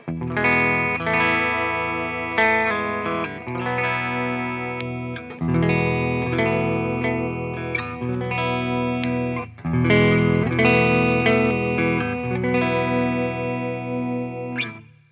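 Ibanez Iceman electric guitar on its neck pickup, round warm tone with effects, strummed chords and ringing notes in phrases, fairly loud and uninterrupted by talk.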